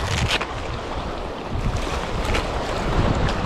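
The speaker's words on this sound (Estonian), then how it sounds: "Loodest puhub see tuul üsna tugevalt." A strong northwest wind blows over open sea during a sea trout fishing trip, a loud, steady roar buffeting the microphone with wave wash underneath and no voices.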